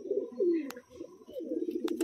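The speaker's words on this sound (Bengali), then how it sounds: "একদম এক ঘর পায়রা।" Domestic loft pigeons, a male among them, give low, throaty coos in close, rolling phrases that swell and fade over a couple of seconds, with no one speaking.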